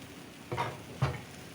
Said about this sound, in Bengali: এখন আমি এটা ভিতরে তেলটা দিয়ে দিব মাছের তেলটা দিয়ে দিব